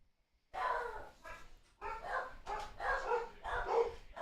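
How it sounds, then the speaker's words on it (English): Dogs bark in repeated bursts of loud, close barks and yips, about five clusters over a few seconds, with no talking. "my dogs are going to go crazy."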